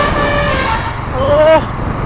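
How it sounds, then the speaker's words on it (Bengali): Vehicle horns honking in Kolkata city traffic on a motorcycle ride, a couple of short toots with a louder sustained blast near the end over constant engine and road noise, with voices mixed in. "কি হর্ন!"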